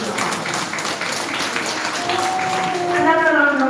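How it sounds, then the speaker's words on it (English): Conference audience applauding at a Sesame Workshop education event, a steady dense wash of clapping that carries on as a voice starts speaking over it near the end. "Another round of applause for her."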